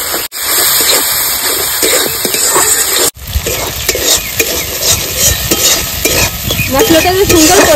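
Cumin and chili spice paste with salt and turmeric fries and is stirred for a katla fish curry. A loud, steady sizzle with scraping stirs runs throughout, broken by two brief cuts.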